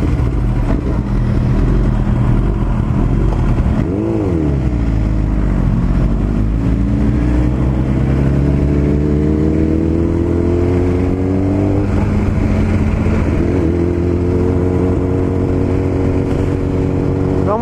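Kawasaki Z300 motorcycle engine running loud and steady while riding, with rising and falling revs as it accelerates and shifts through gears, alone with no talk over it.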